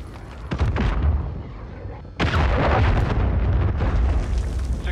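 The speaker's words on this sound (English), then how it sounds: "Friendly cruise missile approaching target." A cruise missile strike in the Call of Duty video game, with a low rumbling blast that surges loud midway and rolls on as a sustained, crackling roar.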